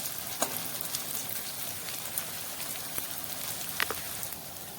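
Coriander leaf fritters sizzling in a pan with only a little oil, giving a steady crackling hiss broken by sharp pops and spits, close up with no talking.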